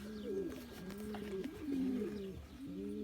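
Homing pigeons coo in a garden loft, their low, throaty, rolling calls repeating continuously and overlapping at close range with no voices.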